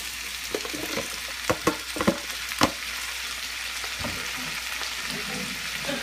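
Sliced bitter gourd (ampalaya) frying with pork in a pan, a continuous sizzle broken by several sharp clacks of a utensil stirring against the pan.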